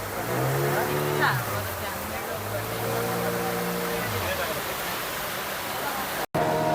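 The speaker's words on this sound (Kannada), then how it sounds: "ಫಸ್ಟ್ ಆಕ್ಟಿವಿಟಿ ಈಗ ನಾವು ಬೋಟಿಂಗ್ ಹೋಗ್ತಾ ಇದ್ದೀವಿ" Motorboat cruising on the open sea off Baga Beach in Goa, a steady loud engine drone and rushing water and wind running throughout, with voices talking over it and a brief cut near the end.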